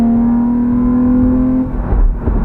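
A BMW M4 revs close by with a strong, steady engine tone, then the note breaks up and rumbles as the car drives past, loud and clear with no talk.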